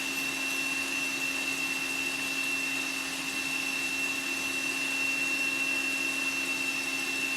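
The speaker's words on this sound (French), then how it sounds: "Donc là, mes blancs commencent à être bien montés." An electric mixer whips egg whites for a chocolate yule log, giving a steady, unbroken motor whine with a constant pitch that runs at an even level from start to finish with no talking.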